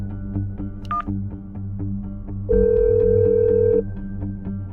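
Rapid sequence of telephone keypad tones followed by a steady beeping signal, clear and close against a low background hum, with no voices.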